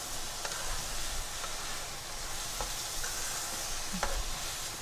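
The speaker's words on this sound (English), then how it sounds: "I'm adding the rice here. And we're gonna start to incorporate it. Fry this up until it gets very dry." Guyanese-style fried rice frying and being stirred in a pan, a steady soft sizzle with occasional light scraping taps, faint and continuous.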